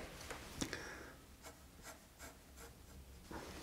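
A pencil drawing a house in a landscape on paper, making soft, scratchy strokes in short bursts with brief pauses between them, quiet and close.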